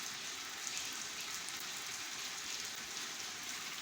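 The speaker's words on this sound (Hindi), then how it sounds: "देखिए कितनी शदीद बारिश हो रही है।" Steady, dense rainfall pours down without a break, a broad hiss of drops hitting surfaces close by, with no voices.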